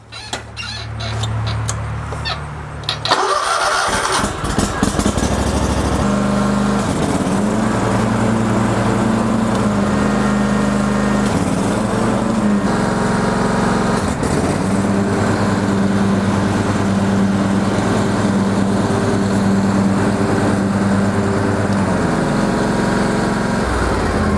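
A Ferris zero-turn mower starts up and runs steadily with its cutting deck engaged, a loud continuous engine drone with a few shifts in pitch as the deck is tested, and no talking over it.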